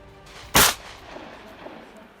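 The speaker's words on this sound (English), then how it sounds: "Gunfire tore through the air" A single sharp hunting gunshot, fired at monkeys or baboons in South Africa, cracks out loud and close, then fades into a quiet outdoor background.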